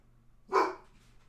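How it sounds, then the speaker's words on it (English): A single sharp dog bark, fairly close and short, rising out of near silence and fading quickly. "I'm going to have to see what he's barking at."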